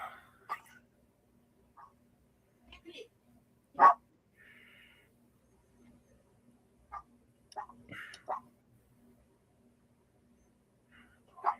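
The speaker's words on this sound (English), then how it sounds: "So I'm beginning to hear some dogs barking, it looks like." Dogs bark in a hunting video game: sparse, short, faint yelps and barks scattered across a quiet background, with a few soft clicks between them.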